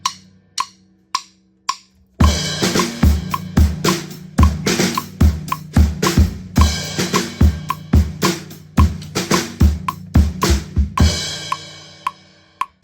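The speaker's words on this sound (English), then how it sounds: "So that second snare drum hit you're hearing there" A drum kit plays the beat of a song: a few sparse opening hits, then a steady, loud pattern of punchy bass drum and crisp snare strokes with cymbal wash, close and without any voices.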